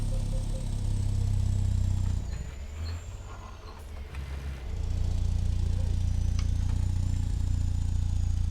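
A modded truck engine in a driving video game rumbles steadily and loudly, dips into a quieter, rougher stretch in the middle as the Jake brake works, then returns to a constant drone.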